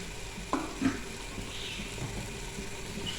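Masala frying in oil in a pan for mutton paya, a steady close sizzle with a couple of brief clinks or stirring knocks, no talking.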